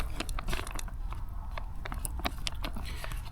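Someone eats a rehydrated spicy camping meal at a wild camp on a North Wales ridge, close, steady wet chewing and crunchy bites repeating in an irregular rhythm with no talk.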